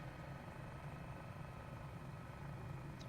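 Helicopter in Microsoft Flight Simulator flying near the Dutton Yellowstone Ranch, a steady, dense engine and rotor drone at constant loudness with no pauses.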